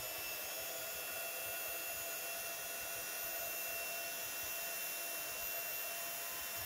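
A heat tool blows steadily while melting metallic silver embossing powder on a Christmas card, a constant whirring hiss at moderate level that cuts off abruptly at the very end.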